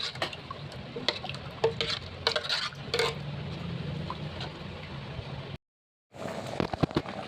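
Soaked tamarind pulp and chili powder for a fish curry are mixed by hand or spoon. Soft wet pattering with scattered clicks and clinks, up close and fairly quiet, with a short silent gap near the end.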